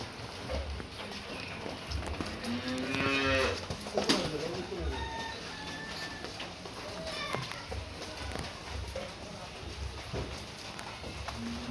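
A large Holstein Friesian cow gives a single drawn-out moo near the start, heard among hoof clops, handlers' voices and outdoor background noise.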